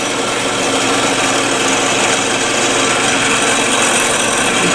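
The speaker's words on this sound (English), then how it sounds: "give the bit a chance to restabilize itself before you drill the rest of the hole" A power drill bores a hole into a wooden snowman on a woodturning lathe, giving a loud, steady, continuous whirring grind with no pauses or talking.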